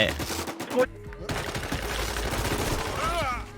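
Video game gunfire in the shooter Warz, rapid shots crackling in quick bursts with a short silent gap early on, while a voice talks over parts of the action.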